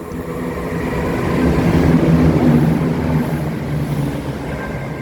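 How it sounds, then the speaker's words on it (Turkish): A high-speed train rushes past with a broad, loud rumbling roar that swells toward the middle and slowly fades, with no voices. "Al hızlı tren bu işte."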